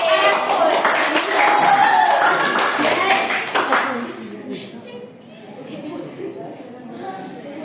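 A classroom full of students clapping during a micro-teaching lesson, a lively round of many hands for about four seconds, then tapering off into quieter murmuring and a voice.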